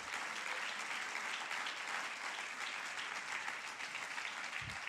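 A church congregation applauding during a sermon, a sustained dense wash of many hands clapping together, steady and moderately distant in a large room, with no voices over it.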